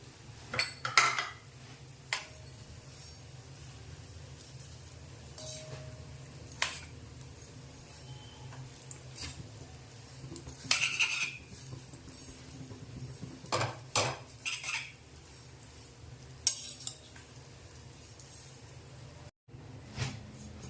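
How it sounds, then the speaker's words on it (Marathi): Vermicelli (shevai) roasting for shevai kheer in a pan, with intermittent clanks and scrapes of a spoon against metal over a quiet background, no speech. "या प्रकारे आपल्याला ही शेवई भाजून घ्यायची आहे"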